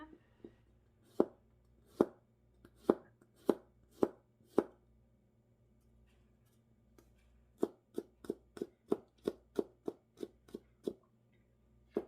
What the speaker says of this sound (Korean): 마늘은 채 썰어 줍니다